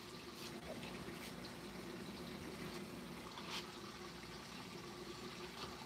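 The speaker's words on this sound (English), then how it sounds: "But the second chamber of the sump is filling now." Water steadily filling the second chamber of an aquarium sump for a 135-gallon tank, a continuous soft gushing and trickling wash, fairly quiet and even throughout with no pump running yet.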